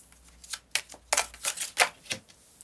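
Tarot cards drawn and laid out one after another, giving a quick series of close, crisp slaps and flicks, about eight sharp taps over a few seconds, with no voices.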